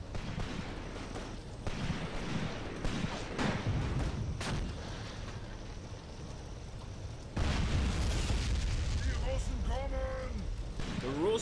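Artillery shells pound a trench line in the war game Graviteam Tactics: Mius Front. Heavy, rumbling booms and blasts repeat over a dense battle din, with voices talking over it.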